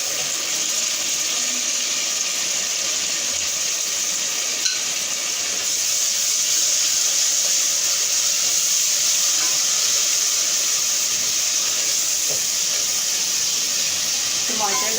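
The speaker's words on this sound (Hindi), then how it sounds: "अब मैं इसमें टमाटर डालूंगी।" Tomatoes sizzle in a hot pan while cooking daal mash, giving a steady, bright hiss that continues evenly from start to finish.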